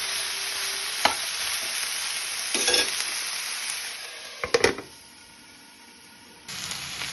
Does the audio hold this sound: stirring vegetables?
yes